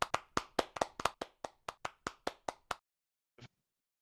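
Brief round of clapping from a few listeners after a conference presentation, about a dozen distinct claps in a slightly irregular rhythm that stop abruptly, followed by a lone faint tap after a short silence.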